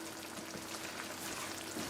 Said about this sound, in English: Okay, I've been simmering for 5 minutes, and the shrimp and the lobster cook real quick.